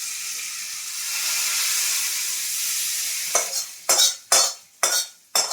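Spice paste stirred into bottle gourd and green pea dal frying in a pan: a loud steady sizzle and hiss, then four or five sharp scraping strokes of a spoon, close up with no talk.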